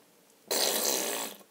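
A single drawn-out fart, loud and close, lasting about a second and heard alone with no talking.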